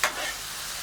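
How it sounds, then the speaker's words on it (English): Onions for fajitas frying and being stirred in a hot pan, a brief scrape at the start followed by a steady, close sizzle with no voices. "we got the onions already going here. Let's mix those in there first."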